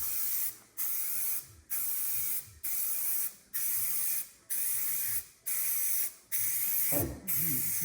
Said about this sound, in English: That's why you have to move with spray paint.